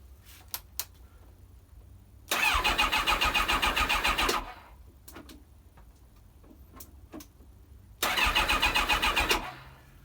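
Kawasaki ZX7R motorcycle with choke on cranking over in two long bursts of starter whir, each about two seconds, separated by clicks and quiet; the engine does not catch, suggesting a flat battery.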